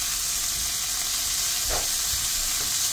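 Shrimp fry in a pot for a fried rice dish, giving a close, steady sizzle and hiss with a soft scrape or two as they are turned.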